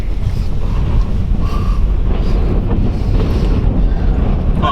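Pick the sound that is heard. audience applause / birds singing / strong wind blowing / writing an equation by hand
strong wind blowing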